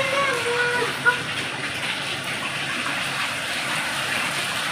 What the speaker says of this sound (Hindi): पानी की आवाज़ सुनाई दे रही, कितनी तेज है